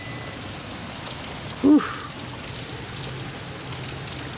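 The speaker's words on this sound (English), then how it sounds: "it's raining hard now" Heavy rain pours down outdoors as a dense, steady hiss filling the whole clip, with a person letting out a brief breathy exclamation midway.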